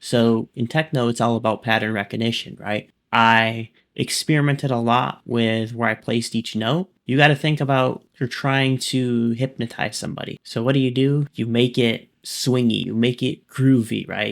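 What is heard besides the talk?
No everyday noises stand out.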